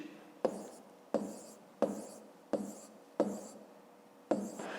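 A pen writes numbers on paper while working a long-division problem for a fifth-grade math exercise. It makes six short, sharp scratching strokes in an even rhythm, each fading quickly, heard up close and quiet with no speech over them.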